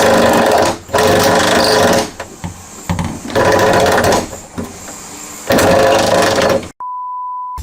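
An electric nibbler cuts through a campervan's metal roof in loud, harsh rapid-chattering bursts separated by short pauses. A steady electronic beep tone follows at the end.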